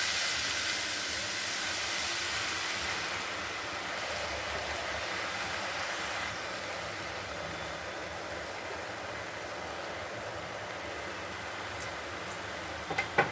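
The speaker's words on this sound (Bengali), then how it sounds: "আমার এটা ভাজা ভাজা হয়ে গেছে এখন আমি ব্রেডটা দেবো" Bread frying in a pan over a high flame, a steady soft hiss and sizzle holding evenly throughout with no talking, ending with a couple of faint clicks.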